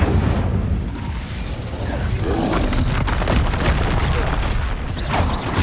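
A loud, sustained fiery blast from the Incendio spell in the video game Hogwarts Legacy roars densely for several seconds, with rumbling booms and crackling bursts under constant game noise.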